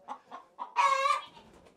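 Chickens at a coop give a few short clucks, then a loud drawn-out squawk, near and clear with no voices.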